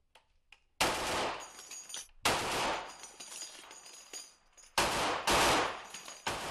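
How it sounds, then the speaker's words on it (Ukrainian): An American heavy machine gun fires at frontline positions, loud bursts of gunfire coming in several long volleys with short gaps between them. "Чоловік запевняє, американський крупнокаліберний кулемет для окупантів найкраще – заспокійливе"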